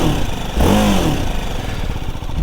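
A 34-horsepower BMW G 310 GS motorcycle engine and exhaust, idling with a close, steady putter, then blipped once into a brief rising rev that falls back to idle.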